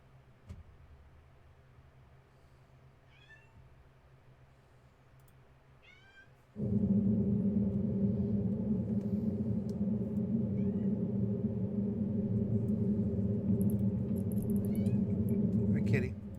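A house cat meows in a few short chirping calls, faint against a quiet room that gives way to a loud steady hum partway through.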